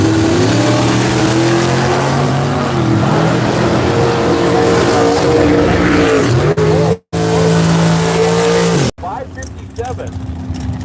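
Drag race car making a loud, close run at Seattle International Raceway, its engine roaring steadily with shifting pitch, cut by two abrupt dropouts near the end, with an announcer talking over it.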